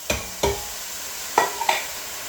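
A spoon stirring spices and canned diced tomatoes in a soup pot for Moroccan chickpea soup, heard as two soft scraping knocks followed by two more clinks and stirs, close and alone.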